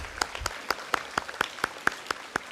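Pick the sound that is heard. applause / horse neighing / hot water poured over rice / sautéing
applause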